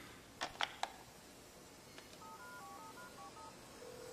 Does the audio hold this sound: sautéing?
no